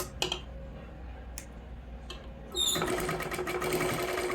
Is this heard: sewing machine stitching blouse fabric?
yes